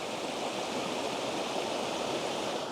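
A waterfall stream in Shenandoah National Park spills over mossy rocks, giving a steady, even rush of water that stays close and constant with no other sounds.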